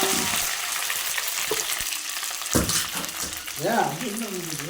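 Chopped okra goes into a pan of onion, tomato and garlic masala and sautés with a steady frying sizzle and a few stirring scrapes, close by, with a voice speaking briefly near the end.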